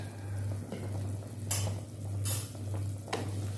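Chicken soto with salt is stirred in a pot, with a few scraping spoon strokes and soft clinks over a steady low hum.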